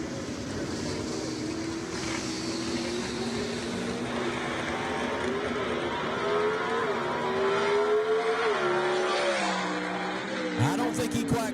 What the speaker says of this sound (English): let you hear this small block Chevy really go to work